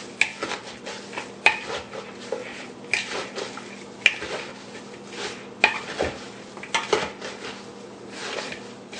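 Cabbage being tossed and mixed with half a cup of kosher salt for kimchi in a bowl, with repeated clattering knocks and rustling scrapes in an uneven rhythm, close and moderately loud.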